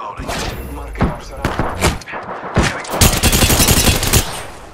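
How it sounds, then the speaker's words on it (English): Rapid RE-45 pistol fire in Apex Legends: sharp cracking shots, first in short spaced bursts and then a fast sustained volley, loud and close, with no speech. "RE-45 here. Firing up."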